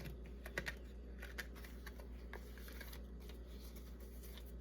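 A deck of cards is shuffled and drawn from during a reading, giving soft, quick riffling flicks and scattered light snaps over a faint hum, with no talking.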